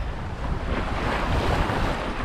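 Ocean swell washing past a sailboat cruising off the Australian east coast, steady broadband rush of water mixed with wind buffeting the microphone, continuous and fairly loud throughout.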